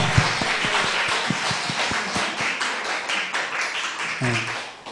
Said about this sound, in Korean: 다시 한번 박수로 환영합니다